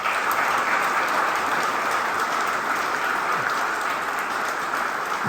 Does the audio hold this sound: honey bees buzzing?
no